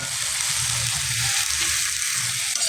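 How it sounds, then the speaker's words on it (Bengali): String beans sizzle in a frying pan of hot oil alongside fried egg for fried rice, giving a steady, loud, close hiss with faint stirring that holds throughout. "ডিম ভাজা হয়ে গেছে, এবার আমি কিছুটা বরবটি দিয়ে দিচ্ছি।"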